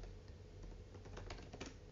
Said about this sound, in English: I'll be using proper typing